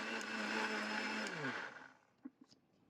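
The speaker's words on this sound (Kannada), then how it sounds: "ಒಂದು ಮಿಕ್ಸಿ ಜಾರಿಗೆ ಬೆಚ್ಚಗೆ ಮಾಡ್ಕೊಂಡಿರೋಂಥ ಹುರ್ಗಡ್ಲೆ ಮತ್ತು ನಾವು ಏಲಕ್ಕಿಯನ್ನು ಒಂದು 5 ಏಲಕ್ಕಿನ ಹಾಕಿ" A mixer grinder runs loudly and steadily, pulverising roasted gram and five cardamom pods into fine powder, then winds down and stops, leaving a few soft clicks.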